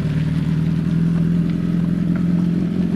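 Superbike motorcycle pulling away as a teenage rider sets off, a steady loud engine drone with a low throbbing note and faint mechanical clatter throughout, close to the microphone.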